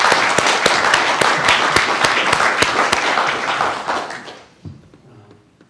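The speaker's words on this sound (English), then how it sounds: "Give you a big clap." Audience applause from a group of listeners, dense and steady with individual sharp claps standing out, holding strong for about four seconds before tapering off and fading to near silence.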